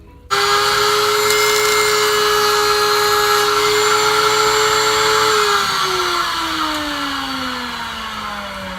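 A power saw whines steadily and loudly while test-cutting a piece of scrap wood for a pallet wood frame, then its pitch slides down as the blade winds down near the end.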